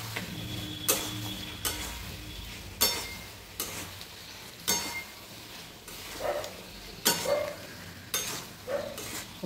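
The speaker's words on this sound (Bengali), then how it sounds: "সব একসঙ্গে ভালো করে মশলাগুলো সবজির মধ্যে কষিয়ে নেব।" Pointed gourd, fried earlier, being sautéed with spices in a pan: a low sizzle with repeated scraping, clinking stirring strokes at an irregular rhythm, close by and fairly quiet.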